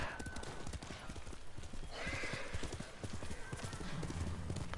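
A horse's hooves clip-clop steadily at a gallop in the video game Ghost of Tsushima, with a neigh or whinny rising partway through over a constant background of game ambience.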